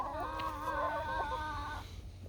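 Hens in a backyard coop converted from a playhouse, giving a drawn-out, wavering clucking call for almost two seconds, fairly close, with no talk.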